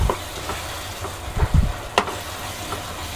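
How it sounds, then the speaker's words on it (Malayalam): Crushed garlic, cumin and green chilli being stirred in a pan for tomato rasam, a low frying hiss with a few soft scrapes and one sharp clack of the spoon against the pan. "ഇളക്കി നന്നായിട്ടൊന്ന് ഇളക്കി എടുക്കണം"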